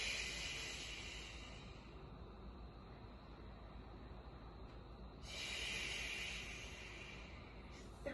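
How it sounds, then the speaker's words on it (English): Forceful breathy exhales during a foundational core workout, two long hissing breaths, the second starting about midway, fairly close and alone with no talk. "So we'll finish off this set, 15 seconds, with audible exhales."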